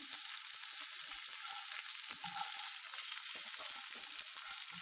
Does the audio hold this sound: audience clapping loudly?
no